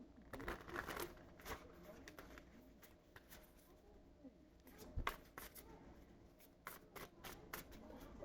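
Tarot cards shuffled by hand in short riffling bursts, with crisp flicks and soft slaps spread across the clip, fairly quiet and close, with faint talk in the background.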